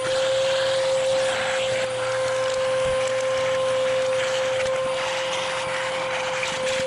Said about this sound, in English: I'm gonna vacuum all these little areas here